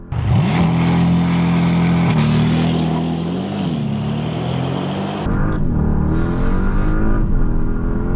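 A powerful 2025 Bentley Flying Spur engine roars loudly up through the revs under launch control, pitch climbing with gear changes, then surges again with a rushing, hard acceleration.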